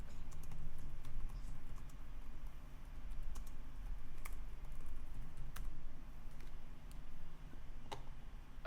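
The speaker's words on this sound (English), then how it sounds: "I went to type, and I just did such a bad job typing." Computer keyboard typing, a steady patter of light key clicks running through the whole stretch at moderate level, heard alone without talk.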